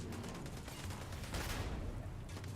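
A dense, continuous roar of gunfire from a player's weapon in Starfield, a rapid fusillade rattling steadily at moderate loudness without talk.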